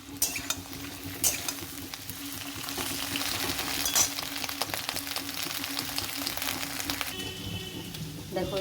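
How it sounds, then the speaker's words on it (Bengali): Okra frying in oil in a pan alongside potatoes and bitter gourd for a vegetarian curry, a soft steady sizzle with scattered crackles and a few stirring clicks, quiet and close, with someone speaking over it. "ঢেঁড়সটা একটু ভেজে নেব।"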